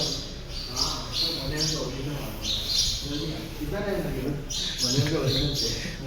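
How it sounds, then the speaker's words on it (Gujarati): Sparrows chirp and tweet repeatedly in the background while a person talks over them. "નેચરલ કેવું ચકલી ચકલીનો અવાજ આવે છે પરફેક્ટ"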